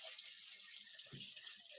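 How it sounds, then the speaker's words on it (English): Tap water runs steadily into a bowl of fruit in a kitchen sink, a continuous close hiss with a brief lower splash partway through. "I am going to actually run a little bit of water over this"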